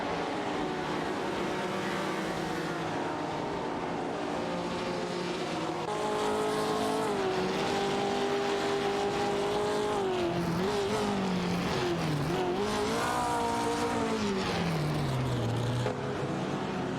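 Maserati 450S and Ferrari 250 Testarossa race cars duel in a video game, engines droning steadily and then rising and falling in pitch through gear changes, with a sweeping downshift near the end over a constant track roar.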